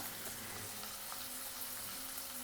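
Chopped onion fries in hot oil for a Kolhapuri mutton kheema masala, giving a steady, dense sizzle that holds even and unbroken throughout, close and fairly loud with no voices.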